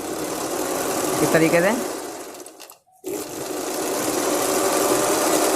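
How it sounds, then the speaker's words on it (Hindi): A hand sewing machine converted to run on a motor whirs steadily while zig-zag stitching, stopping briefly before starting again, with a short burst of voice early on. "जैसी चाहें वैसी जिग-जैग सिलाई कर सकते हैं।"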